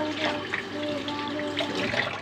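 Grass jelly (cincau) is rinsed under running tap water, a continuous, moderately loud splashing and trickling stream in a kitchen, with no voices.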